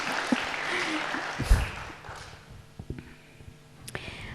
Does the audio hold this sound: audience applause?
yes